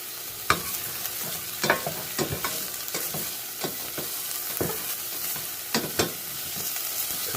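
Green onions frying in a hot pan for katsu curry, a steady close sizzle broken by sharp clacks and scrapes of stirring at irregular intervals.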